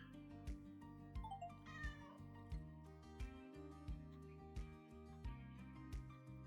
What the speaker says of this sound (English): I can hear them meowing